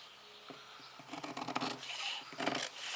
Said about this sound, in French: Je vais découper entre les ronds, là.